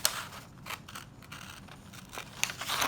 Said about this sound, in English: I have this flower that looks like a rose to me that I will cut out.